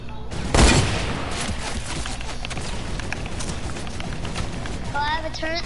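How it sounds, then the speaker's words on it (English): Bursts of gunfire in a video game, a heavy blast at the start followed by a steady clatter of shots, with a voice talking over it. "They're shooting at me."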